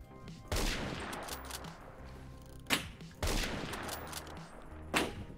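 Repeated gunfire in a Roblox shooter during sniping, with two heavy bursts of shots separated by lulls of game noise, loud and close.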